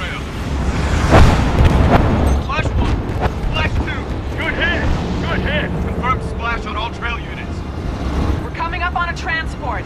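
Missile launches and explosions roar in the video game Titanfall 2, a dense rumbling barrage with whooshing bursts throughout, under shouted radio chatter and voices.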